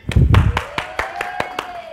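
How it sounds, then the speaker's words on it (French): A small audience gives a short burst of hand claps that thins into about six sharp, evenly spaced claps, with a faint voice tone running underneath. "On applaudit!"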